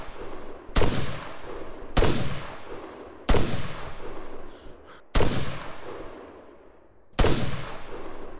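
Gunfire with tracer rounds in the video game ArmA 3, five loud single shots spaced about one to two seconds apart, each a sharp crack followed by a rolling echo tail, with no talking.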